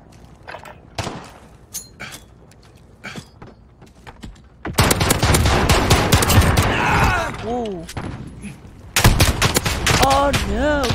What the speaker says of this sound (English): Try and use my pistol here.